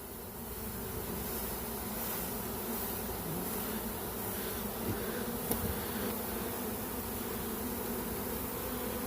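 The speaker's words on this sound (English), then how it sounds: "The bees just marching in." A large honeybee swarm of about ten pounds streams into its hive, giving a steady, dense buzzing hum that stays even and fairly close throughout, with no voices.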